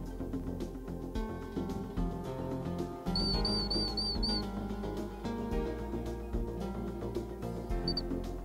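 A dog handler's training whistle gives a short series of sharp high blasts in a field, then one more brief toot later, over steady background music and ambient noise.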